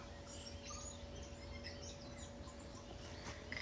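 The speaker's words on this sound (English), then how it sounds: "Tuies." Tui birds call in a quiet wintry outdoor setting, with scattered chirps and liquid notes at moderate distance over a faint steady hum, no voices.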